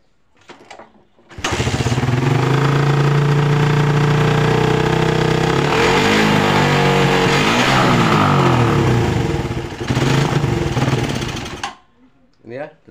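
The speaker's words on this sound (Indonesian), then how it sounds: "Kita engkol dulu ya." A carbureted motorcycle, checked for sputtering, is kick-started and catches abruptly, running loud and close for about ten seconds with uneven revving before the engine cuts out.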